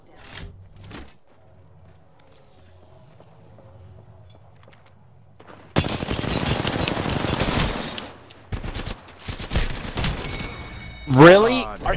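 An R99 submachine gun in Apex Legends fires rapid bursts, a dense rattling stream of shots that arrives suddenly after quieter game ambience and then breaks into shorter bursts, close and loud, mixed with other game sounds.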